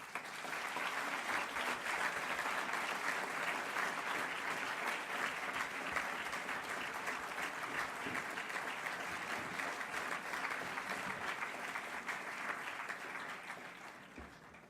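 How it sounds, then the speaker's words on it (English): Warm audience applause for a graduating student being introduced at a school ceremony, a steady dense wash of clapping that holds level for about fourteen seconds before tapering off at the end, with no voices over it. "a warm applause for Laurent Bélanger-Lowe."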